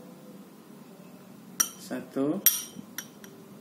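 A metal spoon clinks against a container while scooping herbal powder, a few sharp separate clinks with a person talking over them.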